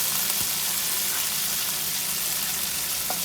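Meat and onions sizzle in a pan with a dense, even crackle that holds steady throughout, close and fairly loud, with a faint clink or two.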